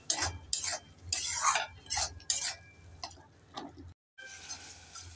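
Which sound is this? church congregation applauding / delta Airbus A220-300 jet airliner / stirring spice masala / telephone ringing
stirring spice masala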